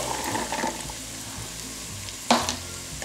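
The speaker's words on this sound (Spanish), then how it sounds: "Ya después de 2 minutitos que los dejé aquí freír, las rodajitas de chiles, ahora voy a agregar los granos del elote" Sliced chiles and corn kernels sizzle in a frying pan with onion, a steady soft hiss broken near the end by one sharp clatter as the kernels go in.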